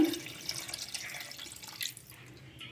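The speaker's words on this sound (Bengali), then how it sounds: "এরপর দেব জল" Water poured into a raw rui fish mixture in a bowl, a soft continuous trickle and splash lasting a couple of seconds before trailing off, quiet and close with no talking.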